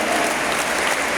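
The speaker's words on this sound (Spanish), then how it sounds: "Dele un aplauso al Señor." A brief burst of dense audience applause during a church sermon, steady and crowded, lasting about a second.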